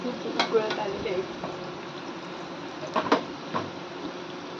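Homemade granular ghee bubbles and sizzles in a pan on the stove, a continuous soft crackle broken by a few sharper pops and spoon or utensil knocks.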